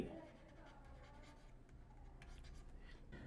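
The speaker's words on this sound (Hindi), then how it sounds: "इंटरवल की डेफिनेशन इधर लिख देता हूं" Marker or chalk scratches across a classroom board as a definition is written during a number-system lecture, soft intermittent strokes under a faint room hum.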